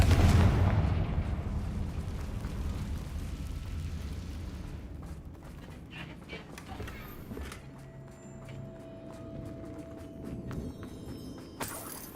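A Confringo blasting spell explodes in a Harry Potter video game, a loud rumbling boom at the start that slowly fades into a low, crackling tail with faint scattered clicks.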